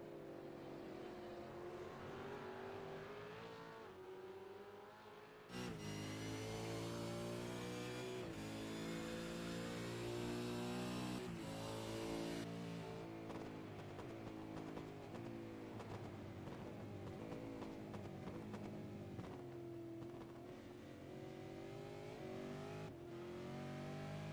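A Mustang race car engine in the iRacing game roars from onboard at Oran Park Raceway, revving up through gears with rising pitch, a short lift and downshift, then sustained loud acceleration.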